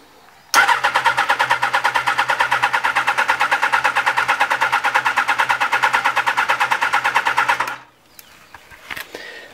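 A Honda CBR 1000F SC24 motorcycle engine cranks over on the starter during a compression test, with a loud, even, rapid chugging rhythm lasting about seven seconds before it stops abruptly.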